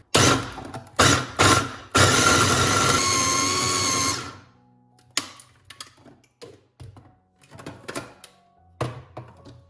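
An electric chopper whirs in loud short bursts while chopping peppers and onions for lahmacun, ending in one long run, then gives way to scattered clicks and knocks of the machine being handled.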